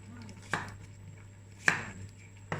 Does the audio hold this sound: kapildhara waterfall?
no